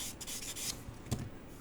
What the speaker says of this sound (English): I like to go in with a very, very light sanding stick, almost like a buffing stick, and just buff that out a bit more